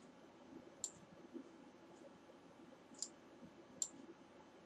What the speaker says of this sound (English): I'm just clicking in a different place on the ball